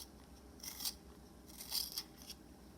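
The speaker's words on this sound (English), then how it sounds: "we're going to sharpen up the prudent pencil of physics" A pencil is sharpened in short bursts of dry scraping and grinding, two or three quiet strokes close by in an otherwise hushed room.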